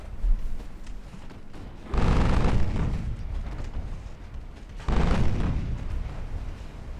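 High explosive rounds from naval artillery on warships in Ultimate Admiral Dreadnoughts sound as two heavy, rumbling booms a few seconds apart. Each rolls on in a long low roar before fading, with no talk.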